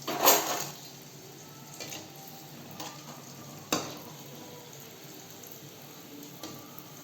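Gulab jamun dough balls fry over medium heat in oil with a quiet, continuous sizzle, punctuated by a few sharp clinks of a utensil against the pan.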